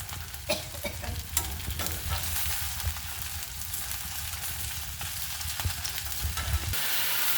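Onions frying in a pan with a steady sizzle, punctuated by repeated scraping stirs of a spatula, close and continuous, no talking.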